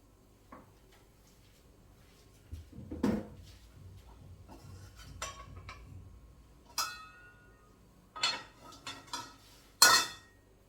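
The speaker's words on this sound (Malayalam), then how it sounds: "സ്പൂൺ വെച്ചാണ് നമുക്ക് കോരി എടുക്കേണ്ടത്." A metal spoon scoops batter for a quick fried snack out of a kitchen vessel, making sparse, quiet clinks and scrapes in irregular bursts, with longer hushed gaps between them.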